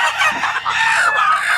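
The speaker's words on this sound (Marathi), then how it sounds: "एका डब्यामध्ये 2 कोंबड्या बसतात" Desi free-range hens clucking in a nesting box on a poultry farm of about 3000 country chickens, a busy, close chorus of overlapping clucks and calls with no pauses, loud and clear without any talk.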